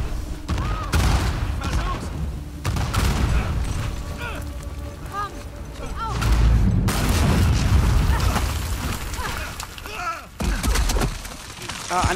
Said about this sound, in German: an Explosionen haben wir hier nicht gespart in dem Spiel